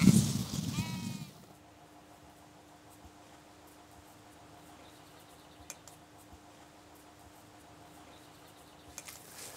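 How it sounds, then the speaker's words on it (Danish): Sheep and lambs out in a grassy field give a loud, close bleat at the start, followed by a long stretch of near-quiet outdoor air. "Der er larm og ballade ude på marken, hvor lammene springer rundt i græsset, sådan som lam skal gøre."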